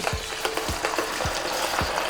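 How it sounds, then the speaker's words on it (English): A steady hiss of a burger patty deep frying in hot oil, with a few soft knocks and scrapes spaced throughout; fairly quiet and uninterrupted by talk. "gently get this thing off of here and slip it into the oil."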